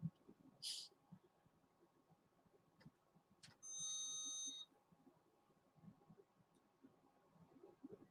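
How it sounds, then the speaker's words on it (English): Faint electronic beeps in a quiet room: a short chirp, then a longer steady beep a few seconds later, over low background noise. "Beeping sound."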